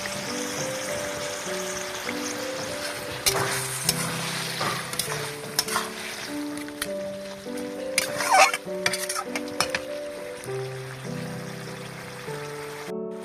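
Wild yam curry with shrimp and mustard paste stirred in a pot over a wood-fired stove, with a steady scraping and stirring texture, soft sizzling and a few louder clinks, close by, no voices.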